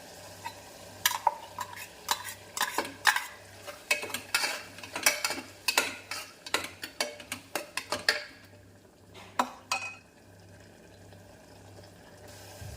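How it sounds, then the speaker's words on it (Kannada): Ground masala goes into softened tomatoes for veg pulao and is stirred with a spoon, giving a run of quick, close scraping and clinking strokes against the pot over a faint low simmer, followed by a short pause. "ಇವಾಗ ರುಬ್ಬಿರೋ ಮಸಾಲೆನ ಹಾಕ್ತೀನಿ"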